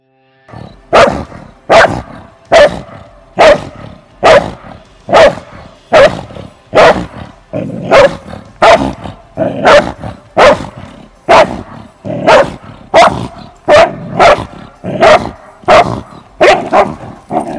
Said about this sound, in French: C'est un chien qui potentiellement est dit très agressif.